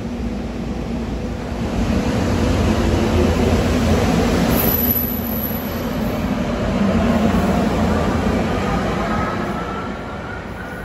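SEPTA Silverliner V electric commuter train arriving at a Philadelphia station, bound for Bryn Mawr, a steady rumbling roar of wheels and motors swelling and holding, heard from trackside with no talking.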